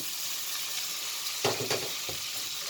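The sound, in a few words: flour sizzling in melted butter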